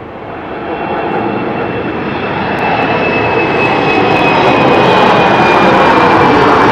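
KLM airliner at London City Airport at dusk, a loud broadband jet engine roar that swells steadily as the aircraft draws nearer, with no talking.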